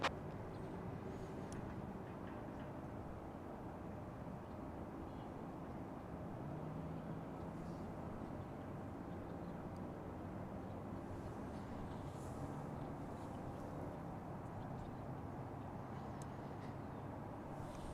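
A Boeing 767 operating as American 1143 departs DFW International Airport, its engines a steady, distant jet roar rumbling evenly throughout with no voices over it.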